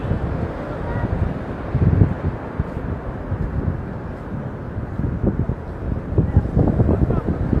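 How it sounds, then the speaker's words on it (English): Steady low rumbling wind buffets the microphone throughout, a continuous blustery roar with occasional gusts, close and fairly loud. "Because it's a bit windy here."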